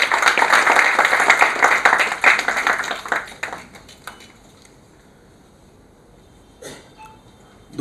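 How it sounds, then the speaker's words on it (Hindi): An audience at a textile industry event applauds with dense, loud clapping that fades out over several seconds, followed by near silence and a few faint clicks. "एक बार चेंबर के लिए और GFRRC के लिए जोरदार तालियां होनी चाहिए।"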